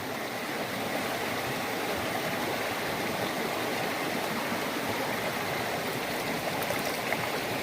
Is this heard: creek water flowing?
yes